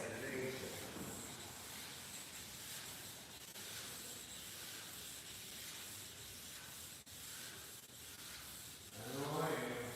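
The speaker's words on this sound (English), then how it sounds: "So you guys are glad to see this thing getting wet sanded, ain't you?" A vehicle roof is wet sanded with a continuous, gritty, hissing rub that holds steady and close for the whole stretch, with speech likely faint beneath it.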